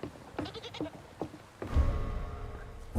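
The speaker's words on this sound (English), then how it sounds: "I love hearing the animals in the background. Like the goats and chickens and the cats." Goats bleat in a farmyard beside a chicken house, several short bleats in quick succession, then a longer drawn-out call over a rustling background, moderately close.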